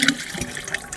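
Water is poured in a home kitchen while sehri is prepared for Ramadan, a short, loud splashing gush with no talk.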